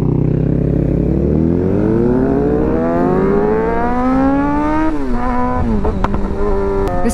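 A modified Suzuki GSX-R 600 motorcycle with a loud aftermarket exhaust revs up close, its harsh engine note climbing steadily in pitch for several seconds, then settling and blipping with brief rattly clatter near the end.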